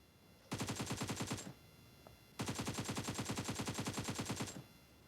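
Two bursts of rapid automatic gunfire in Free Fire, the first short and the second longer, with a quiet gap between them; video game weapon sounds.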